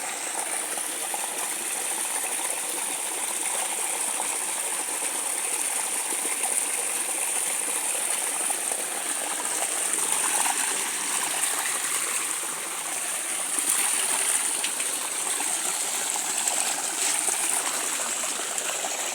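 Canal water flows past in a steady, continuous rush and trickle, with no pauses or voices.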